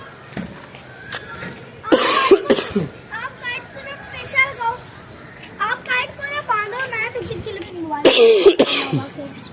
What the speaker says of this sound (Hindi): मुझे खांसी शुरू हो गई है बेटा।